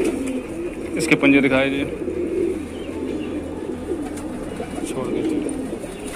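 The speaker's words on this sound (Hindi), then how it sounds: "आप इस लॉफ्ट के अंदर देख रहे हैं कबूतर" Lakhori pigeons in a rooftop loft give soft, close cooing while people talk throughout over light background noise.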